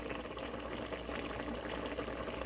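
Cajun chicken alfredo bubbling away in a single pot, a steady, dense boil with no voices, holding evenly loud from start to finish.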